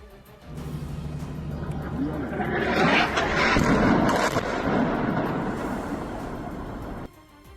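A heavy, rumbling blast from a military strike near a road with passing traffic swells and rolls for several seconds, loud and booming, then cuts off abruptly.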